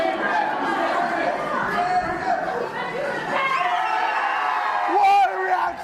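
A wrestling crowd at a live UK promotion event chants and cheers steadily throughout, with whoops and yells rising near the end and a commentator's voice partly audible over the noise.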